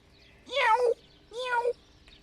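A cat gives two clear meows in quick succession, close and fairly soft against a quiet background, in an outdoor cat park.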